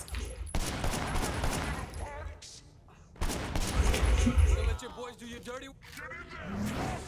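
Gunfire in the Sleeping Dogs video game, rapid bursts of shots layered under excited talking, with a brief lull midway before another loud volley and continued chatter.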